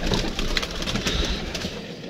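A pigeon being trained calls close by amid rough, scratchy rustling noise, in a short dense burst without any speech.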